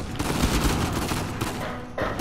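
Dense, continuous gunfire from an Uncharted 4 firefight keeps up a loud, overlapping barrage of shots with no pause in the intensity for the whole stretch.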